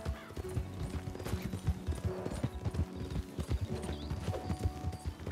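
Horse hooves clip-clopping in the Star Stable video game: a steady, close series of hollow hoof knocks in an even walking rhythm, with a brief whinny mixed in.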